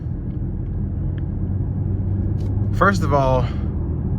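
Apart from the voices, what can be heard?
2023 BMW X6 xDrive40i driving on road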